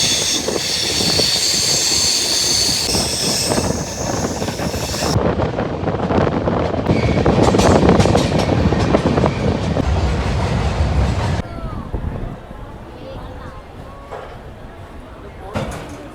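A train at New Jalpaiguri railway station rumbles loudly and steadily with rattling wagon noise and wind buffeting the microphone, then drops to a quieter station hum near the end.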